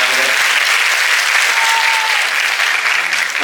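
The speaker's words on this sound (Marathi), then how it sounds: "जरा जोरदार टाळ्या या ग्रुपसाठी पाहिजे." A women's group from a police wives' association is applauded by an audience at a performance, dense continuous clapping, loud and close, lasting throughout.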